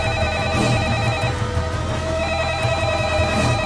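A telephone rings continuously in an office-like scene, its electronic tone repeating steadily and loudly with no talk over it.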